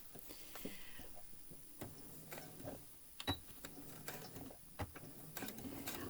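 A sewing machine stitches a scout patch in short, faint mechanical bursts and ratcheting clicks, starting and stopping irregularly in a quiet room with no talking.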